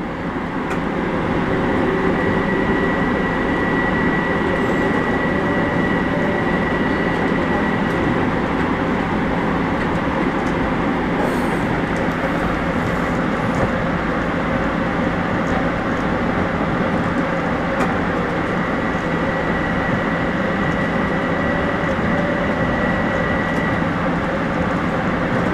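Commuter train running on old, unupgraded main-line railroad tracks, a long continuous rumble and clatter of wheels on rails with a steady metallic hum, loud and close throughout, with no talking.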